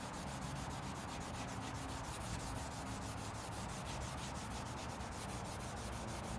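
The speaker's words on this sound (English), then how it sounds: "we're going to take these pads and we're just going to scrub" Abrasive pads scrubbing surface rust off the body of a barn-find Chevelle car, giving a steady, even rubbing noise that continues unbroken and fairly faint.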